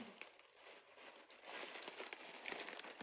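A plastic bag holding about a liter of expanded clay pellets for orchids crinkles and rustles continuously, close by and quiet, with soft crackling and a few sharper crisp snaps.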